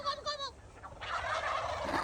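A turkey gobbles in a short rapid burst, a nearby bright warbling call over faint background noise, followed by a broad rushing noise that lingers to the end.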